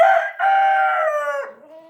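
A white rooster in a backyard coop with hens gives a single clear crow, close and loud, with a rising then falling tone that trails off.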